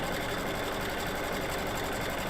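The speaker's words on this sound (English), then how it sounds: "So, that's stitching down, and it should go down twice." An embroidery machine stitches down fabric for an in-the-hoop mug rug, giving off a steady, fast mechanical whir and rhythmic needle chatter, continuous and close, with no voices.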